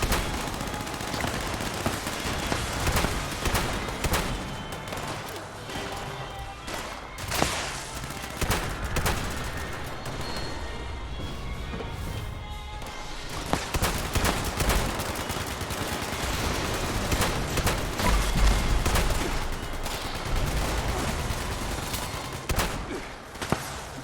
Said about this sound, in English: I'm just kind of shooting at a couple here.